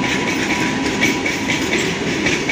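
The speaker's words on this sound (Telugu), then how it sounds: "Wagon 9 locomotive with goods train." A WAG-9 electric locomotive hauling a goods train rumbles past at close range, with a loud, continuous roar of wheels and wagons and faint rhythmic clatter throughout.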